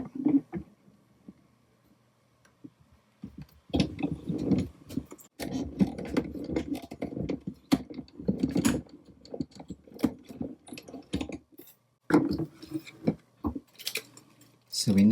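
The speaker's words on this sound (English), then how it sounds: "And then die cut that through." A die cutting machine runs card stock through in bursts of mechanical clatter and rattling, close and moderately loud, starting after a quiet opening, with short pauses between passes.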